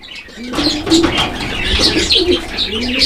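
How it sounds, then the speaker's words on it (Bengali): Several pigeons coo in low, throaty bursts that overlap, close by, with some chirping and faint rustling mixed in. "বন্ধুরা দেখাচ্ছে এখানে আরো এক জোড়া কবুতর"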